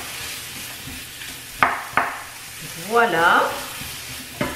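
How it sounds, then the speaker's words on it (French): Chorizo fries directly in a pan with a soft sizzle, punctuated by a couple of sharp utensil taps and a brief scrape, while a voice speaks over it. "le chorizo cuit comme ça directement dans une poêle, c'est pas très bon"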